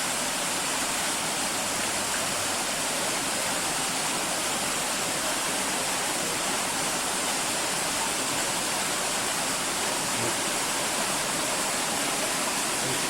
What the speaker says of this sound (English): You can see there's quite a bit of leakage coming in from that further panel.